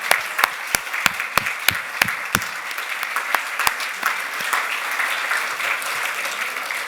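An audience at a ceremony honoring publisher Katharine Graham applauds, starting with sharp, distinct claps that quickly blend into a steady, fairly loud round of clapping that holds to the end.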